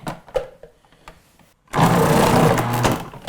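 A Magimix 4200XL food processor slicing potatoes: a few quiet clicks and knocks, then the motor surges in abruptly to a loud, continuous whirring grind that holds steady to the end.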